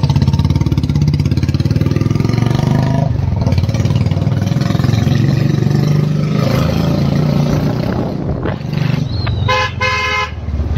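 A Royal Enfield Bullet Classic 350 motorcycle fitted with alloy wheels and an aftermarket silencer runs with a steady, close engine thump throughout, and a few short horn toots sound near the end.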